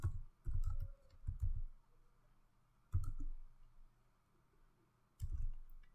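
Short bursts of soft computer keyboard typing as a query is entered, clusters of quick key clicks separated by pauses, close and fairly quiet with no speech.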